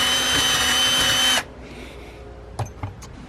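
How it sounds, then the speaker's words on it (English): Power drill enlarging holes for bigger hardware, a loud steady high whine running then stopping abruptly, followed by quiet and a couple of light clunks. "Now that we got our new holes drilled"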